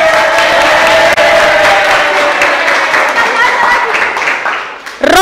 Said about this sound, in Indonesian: Oke, tepuk tangan buat Robi.